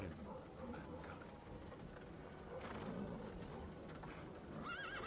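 Horse neighing and hooves in the Castlevania: Lords of Shadow video game, a whinny and clip-clop of hooves amid dark ambient game sound, with a rising whinny near the end.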